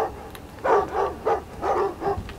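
Dog in the video game Thief barking and yelping repeatedly, about five short, evenly spaced bursts over a low game ambience, moderately loud and close with no voices.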